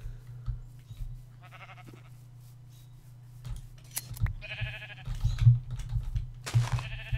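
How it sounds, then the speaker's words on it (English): Light gray sheep bleating in Minecraft, several short nasal bleats over a steady low background hum, growing louder and more frequent toward the end, with no talking. "These are all light gray sheep, aren't they?"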